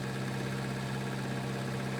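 A Zetor tractor engine in Farming Simulator runs at a steady, droning idle-like hum with constant vibration, close and even, with no talk.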